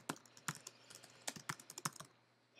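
Quick run of keystrokes on a computer keyboard as a web search is entered, about a dozen crisp clicks in irregular bursts, close and alone with no voice.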